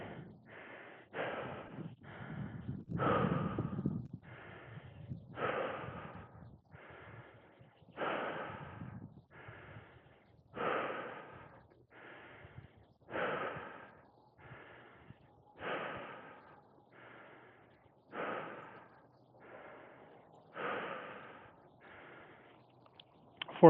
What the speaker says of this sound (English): Breathing is now becoming very important.